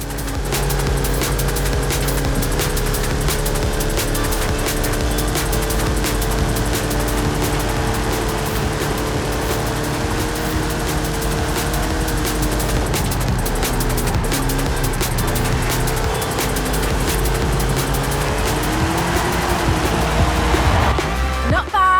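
A race car drives through the Hot Wheels expansion of the video game Forza Horizon 5, its engine droning steadily and loudly under continuous rushing noise for over twenty seconds, with game voices talking over it.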